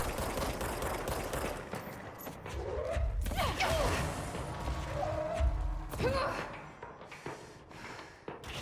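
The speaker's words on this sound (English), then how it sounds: "Was something shooting at you from afar?" Distant gunfire in the game Control, a scatter of sharp impacts and thuds at moderate level amid game ambience and some voice activity.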